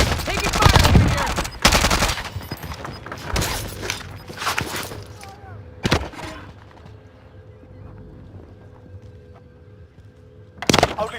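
Loud automatic bursts and single gunshots from a Call of Duty Warzone match crack out at irregular intervals, with sharp heavy bursts near the start, isolated shots later and a final burst, set against quieter in-game ambience.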